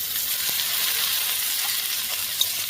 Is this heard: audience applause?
no